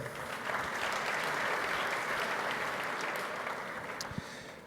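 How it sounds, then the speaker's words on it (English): A conference audience applauds after a panel, the clapping swelling quickly, holding steady, then gradually thinning out over a few seconds. "Another round of applause for our last panel there."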